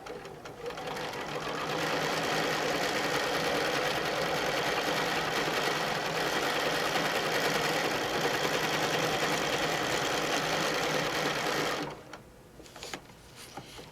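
Domestic sewing machine stitching during ruler work quilting, a steady loud continuous whir and rapid needle hum for about eleven seconds before stopping, followed by a few light clicks and handling sounds.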